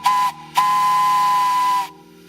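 Steam from a distillery boiler powering a gin still at a craft gin distillery, a loud, steady steam whistle with hiss, a short blast then a longer sustained one, close and without talk.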